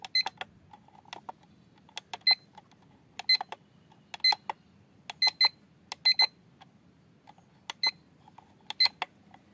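Sharp electronic beeps from a cube-shaped digital desk clock timer, sounding singly and in quick pairs at irregular intervals over a faint steady hum.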